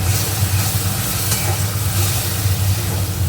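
Water lily stems with mustard paste cooking as chorchori in a pan, a loud continuous close-up sizzle and hiss with a low steady hum beneath and no talking.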